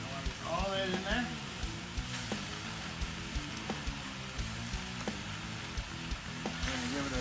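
Meat sizzles in a hot pot for a meaty Tex-Mex chili, a faint continuous frying crackle with small pops and scraping, while a voice speaks briefly over it.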